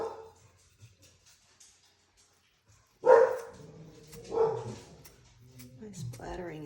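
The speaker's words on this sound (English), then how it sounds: "Sorry about my dogs barking in the background there." Pet dogs bark indoors behind a watercolor painting session. After a quiet start there are a few separate barks, fairly close and loud, followed by a longer rough yelp at the end.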